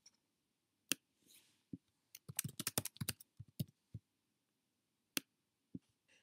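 Sparse computer keyboard keystrokes tap out in a quiet room, isolated clicks then a quick burst of typing and a few more scattered taps, close and clear with no talk.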